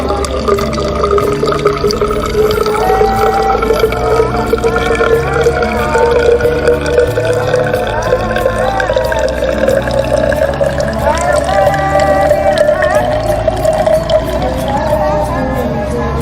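Collected rainwater poured out of a rain gauge into a measuring cylinder, a continuous gurgling trickle lasting throughout, close and fairly loud, with a steady background hum.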